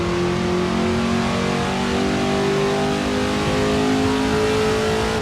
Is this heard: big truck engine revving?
yes